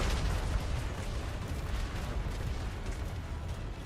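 Ship cannons in a video game fire in a thick, continuous barrage, a loud low rumble of overlapping booms and crackling bursts that holds steady throughout.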